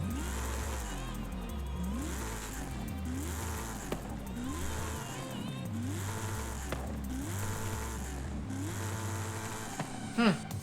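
2002 Chevrolet Corvette Z06 engine in the video game Forza Horizon 5, revving up and down repeatedly in rising sweeps with gear-like steps, loud and close, with a short burst of extra noise near the end.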